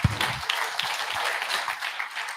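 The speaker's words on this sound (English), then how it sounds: "Big round of applause." A brief, fairly faint burst of applause from a small audience at a live real estate wholesaling event, the clapping dense and short-lived.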